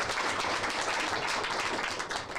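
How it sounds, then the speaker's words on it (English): Applause from the audience at an annual organizational school board meeting, a dense steady wash of many hands clapping continuously at moderate volume with no talk over it. "So I would love to give everybody a big round of applause."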